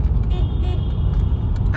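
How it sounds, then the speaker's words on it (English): A car horn sounds inside a road tunnel in Portland, Oregon, a brief sustained toot over loud engine rumble and echoing traffic noise, with voices nearby. "They say if you horn, oh, honk."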